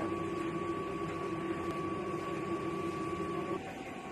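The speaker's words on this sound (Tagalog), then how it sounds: "ito po ang sublimation machine namin dito sa Transfer 8999. Andito po ang aming printer head." A sublimation printer running steadily, a constant mechanical hum with a sustained tone that shifts and drops slightly near the end, no voices over it.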